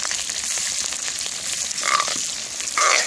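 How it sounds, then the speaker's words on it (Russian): Onion frying in oil inside a cast-iron kazan, a steady close broadband sizzle with brief brighter crackles, heard alone with no talk. "Вот, лук жарится."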